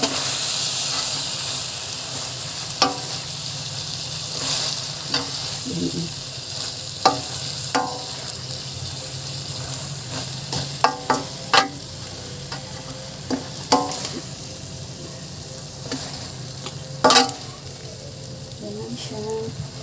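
Tofu and bean sprouts stir-fried in a pan over medium heat, with a continuous sizzle and hiss broken by repeated scraping and tossing strokes of a spatula, close and fairly loud.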